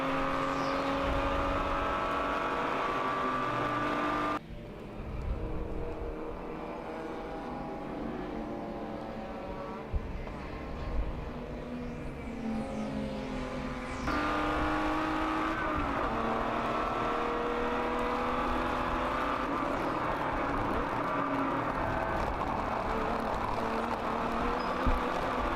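Endurance race cars on the Sebring circuit at turn 7, with a Porsche Boxster leading the field, their engines a continuous loud roar that swells and fades as they pass at a distance.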